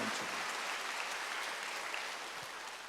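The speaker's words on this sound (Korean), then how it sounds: "빨리 박수하세요" A church congregation at a Wednesday worship service breaks into sustained applause, a dense wash of many hands clapping that fades gently toward the end.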